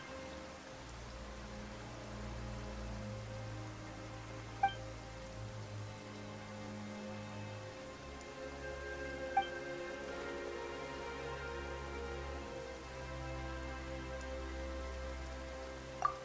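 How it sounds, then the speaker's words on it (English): Rain falls steadily in Genshin Impact, a soft continuous patter of drops on surfaces heard under low sustained background music, with a few faint sharper ticks. "Why is it raining all of a sudden?"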